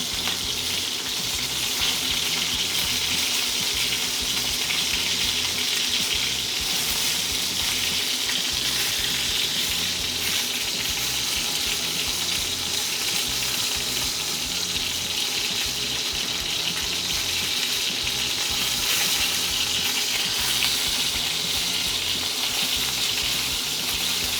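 Steak searing in a pan as its fat crisps into a crust, a steady, loud broadband sizzle that runs unbroken and close for the whole stretch, with no voices over it.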